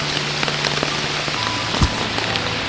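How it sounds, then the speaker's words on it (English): Steady pouring rain falls around a hunting stand on a wet morning, a dense continuous hiss of drops with one brief louder thump near the end. "It's been pouring rain."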